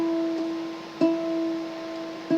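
Guitar notes, a root followed by its major third, ring out as sustained plucked tones with three soft attacks, heard close and alone without talking.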